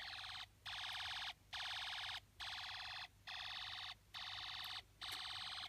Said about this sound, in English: Are you ready for some exciting space war sounds?